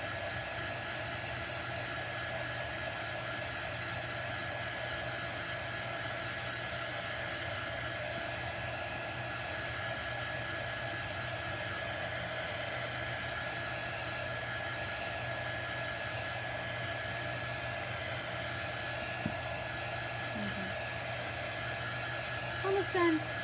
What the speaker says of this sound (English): I'm going to dry this really quick with my heat tool again.